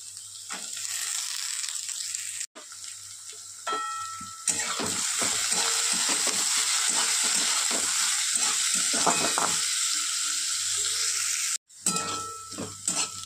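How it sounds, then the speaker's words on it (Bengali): Carrots and potatoes sizzle in hot oil and are stirred for suji upma, a continuous frying hiss broken by spatula scrapes against the pan and two brief pauses. "গাজর আর আলু দেব, কারণ গাজর আলু সিদ্ধ হতে একটু সময় লাগে, সেই জন্য একটু আগে 2-1 মিনিট নাড়াচাড়া করে নেবো"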